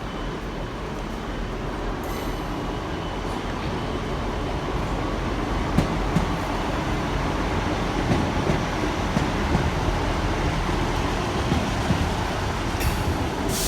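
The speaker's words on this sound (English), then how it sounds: "Right, this is the Lincoln Leicester train." Lincoln to Leicester train at a station platform, a steady low rumble of the train idling or rolling close by, continuous throughout with faint clicks and hiss on top and no speech.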